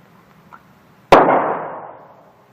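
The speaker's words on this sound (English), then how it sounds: "they will draw and fire one round when the target faces them from the bent elbow position in 2 seconds" A single pistol shot fired on a shooting range during a timed draw drill, one sharp loud crack with a long ringing decay, preceded by a faint click.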